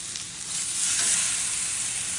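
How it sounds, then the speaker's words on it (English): Wagyu steaks sear in a very hot cast iron skillet, a bright continuous sizzle that swells louder after the first half second and holds steady, alone. "I'm taking the Wagyu steaks, throwing them in for 2 minutes aside, flipping them, that simple."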